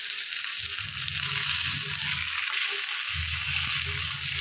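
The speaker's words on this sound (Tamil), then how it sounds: "இது வஞ்சன மீன் சின்ன மீன்ன்றதால நம்ம முழுசாக போட்டு கீரல் போட்டு வறுக்கிறோம்" Whole small vanjaram fish, scored and fried in a pan, sizzles with a steady bright hiss of hot oil throughout, with faint low stirring or shifting sounds underneath and no talk.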